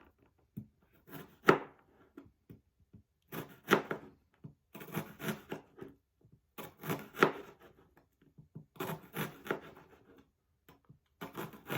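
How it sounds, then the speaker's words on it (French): Knife chopping an onion on a wooden board, heard as clustered bursts of sharp, close knocks and slices with short pauses between runs, loud and without talk. "Nous allons émincer notre oignon."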